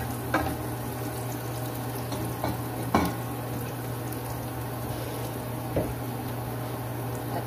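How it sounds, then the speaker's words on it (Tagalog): Garlic and onion fry to golden brown in a pan, with a steady moderate sizzle, a low hum underneath and occasional sharp scrapes and taps of stirring, all without talk. "golden brown muna natin yung bawang at saka sibuyas."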